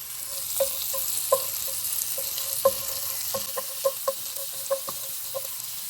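Chicken ramen simmering in a pot, a steady close sizzling bubble broken by a string of sharp clacks and taps of a utensil against the pot, with no voices.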